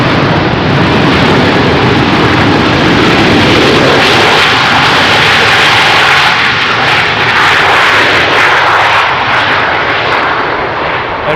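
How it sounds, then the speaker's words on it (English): A loud KLM Boeing 737 lands at Amsterdam Schiphol on a windy day, a heavy, sustained jet-engine roar close by that holds strong and then slowly eases. "a rather loud Boeing 737 from KLM landed just now"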